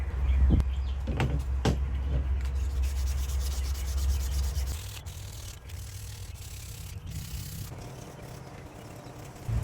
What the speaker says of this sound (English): now we're gonna hit it with the 600 grit